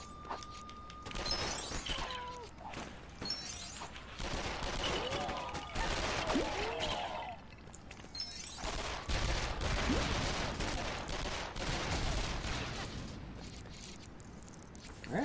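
Rapid gunfire bursts from the Lego Batman video game, dense and continuous over a busy mix of game effects and music, with crackling shots and impacts recurring throughout.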